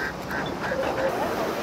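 Ducks, moved with chickens and Muscovy ducks after a flash flood, quack repeatedly in short nasal bursts, close and fairly loud, over a background of rustling and movement.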